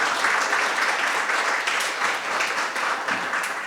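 An audience at the opening remarks of a conference breaks into sustained applause, a dense wash of clapping that holds steady for several seconds.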